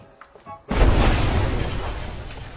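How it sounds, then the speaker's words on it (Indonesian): A sudden, loud explosive blast of a warehouse in a film erupts after a brief quiet moment, then gives way to a sustained, roaring rumble that slowly fades. "si penjaga market pun dibuat kaget dengan gudang yang meledak"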